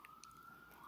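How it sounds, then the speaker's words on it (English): Emergency vehicle siren outdoors, a steady high wailing tone held throughout, moderately faint and distant-sounding beneath a hiss of background noise. "there's a nice loud siren"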